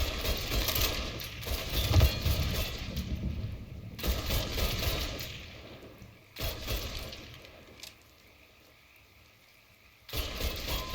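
Gunfire in the video game Mafia 3: loud bursts of shots and impacts come in dense volleys for several seconds, then break off into quieter gaps before another burst resumes at the end.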